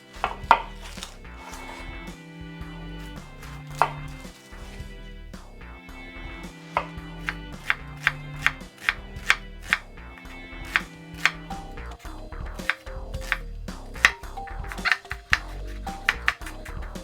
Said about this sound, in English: Just going to slice my onion.